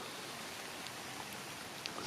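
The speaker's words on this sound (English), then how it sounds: "This garden is loving the rain." Steady hiss of rain falling on a Deep South vegetable garden, an even broadband wash with faint scattered drips and patters, moderately soft and uninterrupted.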